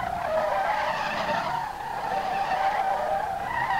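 Tires skid and squeal continuously as a car drifts sideways in the SLRR racing game, a loud sustained screech with slight wavering pitch and no talk.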